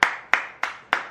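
Four crisp hand claps ring out close by at an even, unhurried pace, each a sharp smack that fades quickly before the next, with no voices.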